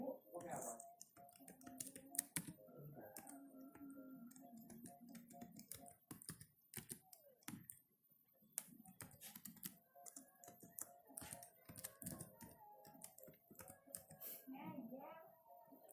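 Someone types an email address on a computer keyboard, producing quick, irregular clusters of close key clicks with brief pauses. A voice talks softly throughout.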